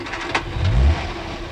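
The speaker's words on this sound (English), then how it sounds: "Engine runs smoothly enough." A 1972 car's engine runs smoothly, a steady mid-range hum with a low throaty swell as it briefly revs, close and fairly loud with no talk.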